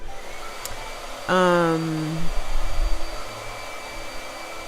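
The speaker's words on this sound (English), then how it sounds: "All right, blow dryer." A blow dryer switches on with a sudden whining hum that runs steadily for about a second, then gives way to a lower rumbling airflow, close and moderately loud, with no speech over it.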